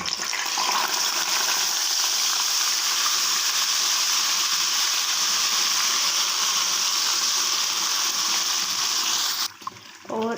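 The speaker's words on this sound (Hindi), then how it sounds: "और हम इनको हल्का सा फ्राई करते हैं।" Ground masala sizzles in a pan with a steady, bright hiss of frying oil, loud and continuous before briefly breaking off near the end.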